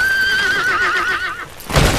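In the video game Metal Gear Solid V, a horse gives a loud, close, quavering neigh that lasts over a second, followed by a brief thud of movement.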